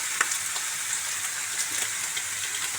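Taro chunks fry in a small pan with a steady, dense sizzle and faint scattered pops, close and continuous, with no talking.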